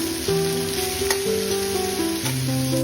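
Steady crackling sizzle of onion and garlic paste frying in hot oil, loud and close, with a few clinks of stirring; soft background music tones run throughout.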